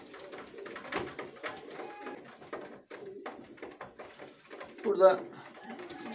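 Hünkari pigeons cooing softly inside their coop, a faint soft murmur with a slightly louder burst near the end, mixed with someone talking and small handling noises.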